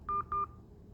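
Two short keypad DTMF beeps from a bank's automated phone menu, each about a tenth of a second, in quick succession, clean and alone over a faint line hiss.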